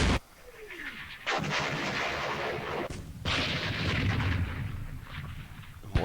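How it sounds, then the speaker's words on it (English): Repeated heavy mortar strikes in the Campaign Series Rising Sun war game, set in a Korean War battle: a series of booming impacts with rumbling low tails, loud and close, one after another with brief gaps. "Mortar strikes there."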